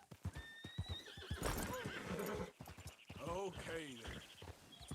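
A Missouri Fox Trotter horse in a video game clops its hooves and lets out loud whinnies and neighs, close up, while a player talks over it.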